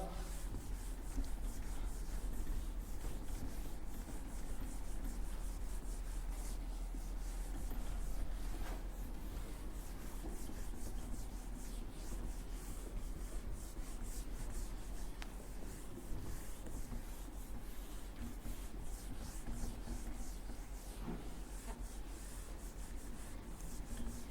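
Chalk or marker writing is rubbed off a classroom board, a continuous scratchy rubbing and scrubbing that stays steady and fairly quiet throughout with no talking.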